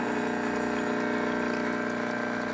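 Water runs in a steady stream from the group head of an espresso machine during a test shot after a full tune-up. Under it hums the pump, loud and continuous, with no breaks and no talking.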